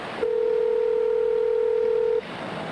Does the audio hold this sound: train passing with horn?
no